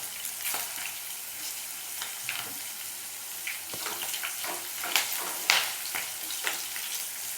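Masala sautéing in a pan for a spicy chickpea curry, giving a steady close sizzle with scattered scraping stirs and a few sharper clinks, no one talking.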